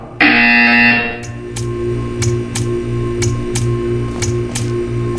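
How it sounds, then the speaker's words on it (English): A loud electronic buzzer blares for about a second in the video game Portal 2, followed by a steady hum and a series of sharp, evenly spaced ticking clicks. "When you hear the buzzer, stare at the art."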